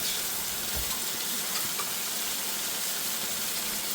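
Balti curry sizzling in a hot pan, a steady continuous hiss of frying with faint stirring, close and even throughout with no talk.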